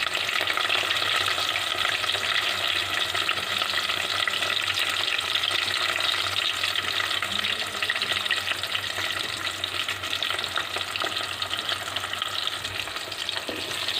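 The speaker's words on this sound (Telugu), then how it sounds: "పోపు మనకి వేగినది" Green chillies, onion and curry leaves tempering in hot oil in a pan, a continuous dense sizzle and crackle up close, steady throughout with no voices.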